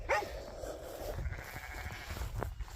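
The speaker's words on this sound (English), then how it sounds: "Just out here checking the ewes tonight." Ewes bleating in a field at night, a few close, wavering calls over a low steady rumble of background noise, with no voices.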